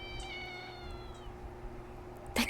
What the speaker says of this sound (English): The cat sounds in pain.